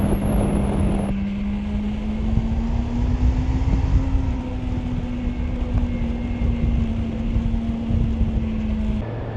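A 2020 Kawasaki Ninja H2 SX engine pulls hard under acceleration, a steady rising drone with heavy wind buffeting over the rider's microphone, continuous and close for the whole stretch.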